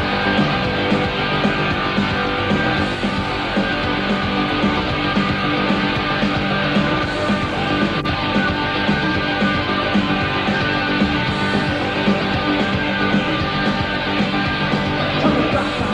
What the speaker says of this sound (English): This is the sound of an electric guitar.